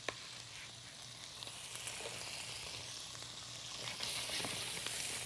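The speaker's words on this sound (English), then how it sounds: "Got a couple of tablespoons of butter that I'm going to put in the rice pan. I'm going to add my onions." Onions frying in butter in a rice pan make a steady, close hiss that swells slightly toward the end, with a low constant hum underneath and no voices.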